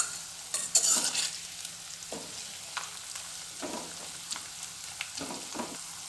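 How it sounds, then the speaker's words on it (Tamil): Herb leaves cook in oil in a pan to make a homemade herbal oil for knee pain, a steady soft sizzle broken by several scraping stirs and clinks, near and moderately loud, with no speech. "இப்போ இந்த தலையில் இருக்கிற சாரெல்லாம் எண்ணெயில் நல்லா மிக்ஸ் ஆகிற வரைக்கும் நம்ம இது நல்லா வேக விட்டுக்கலாம்"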